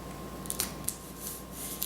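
Scissors snip through glittered paper with a few soft, close cuts, each a brief crisp click over a quiet background with no talking.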